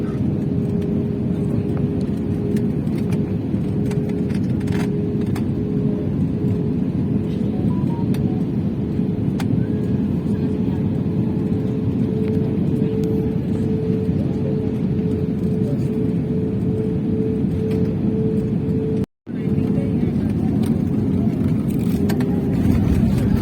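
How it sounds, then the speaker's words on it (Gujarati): A passenger airplane landing, heard from inside the cabin as a loud, steady engine roar and rumble with a faint whine, running unbroken apart from one short dropout. "વિમાન નીચે જ્યારે લેન્ડિંગ થતું હોય ત્યારે પણ ખૂબ જોરદાર અવાજ આવે છે"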